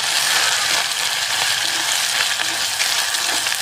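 Ground coconut mixture frying in a hot pan for an Onam sadhya dish, a loud, steady, close sizzle and crackle that holds unbroken throughout with no voices.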